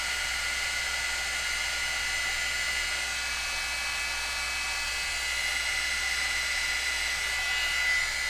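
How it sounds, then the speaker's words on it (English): Heat tool melting embossing powder, a constant close, high-pitched whirring hiss of blowing air that runs steadily the whole time without speech. "now I've got my heat tool. And it's going to get noisy for a second"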